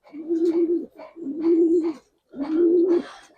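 A Giribaz pigeon gives three drawn-out, throaty coos in a close, even rhythm, with short gaps and a few soft flutters between calls; no talking.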